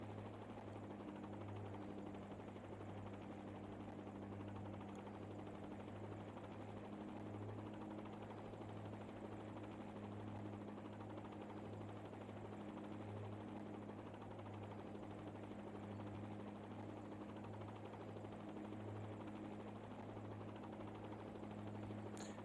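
A simulated helicopter in autorotation after engine failure in a flight simulator game, a continuous steady rotor drone with a low, pulsing hum and broad whooshing noise held evenly throughout.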